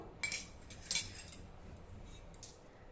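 Roasted chana dal scraped out of a pan for homemade chakli flour, giving a few brief metallic clinks and scrapes of spoon against pan over a soft background hiss.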